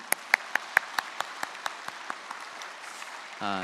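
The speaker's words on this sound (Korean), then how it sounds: "우리 부모님들께 다시 한번 축복의 박수를 보내셨으면 좋겠습니다." Scattered claps from a church congregation at a Korean Parents' Sunday service, a few sharp distinct claps thinning out over a few seconds before a voice begins at the end.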